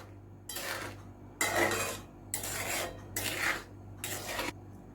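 Paneer being stirred into gravy in a pan for a home-style matar paneer, heard as five rasping, scraping spoon strokes in a steady rhythm, close and moderately loud with short pauses between them.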